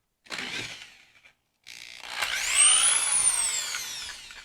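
A power drill whines into a short burst, stops, then spins up again with a rising, high-pitched drilling sound close by as it bores into plastic.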